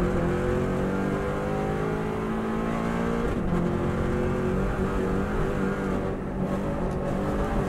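A Subaru WRX STI engine accelerates hard around the Isle of Man TT course, revs climbing steadily in a close, loud in-car roar, with a quick gear change midway before the pitch rises again.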